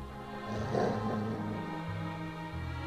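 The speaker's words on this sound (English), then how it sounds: "the dog's barking" A dog barks in the Dragon Age 2 role-playing game, a muffled, low growling bark over a steady bed of game music and ambience, moderately loud.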